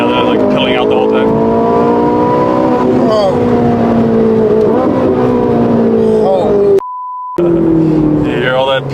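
A Ferrari 458 on cold tires rolls along in second gear with a steady close engine drone and rising and falling harmonics while the tires pick up debris. People talk over it, and a short beep tone cuts in near the end.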